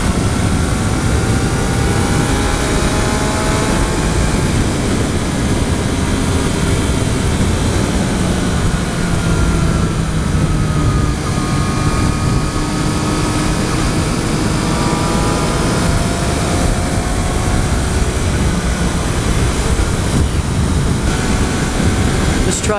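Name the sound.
2014 Triumph Street Triple R motorcycle riding at speed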